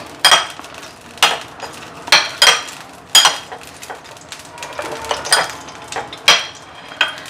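Metal utensil scraping and knocking against a pan while a spice mix is stirred with onion, ginger and garlic, a steady run of sharp clinks and scrapes about every second, close and fairly loud with no talking.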